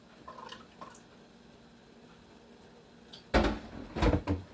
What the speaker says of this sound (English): in my coconut milk, I just dilute with a bit of water.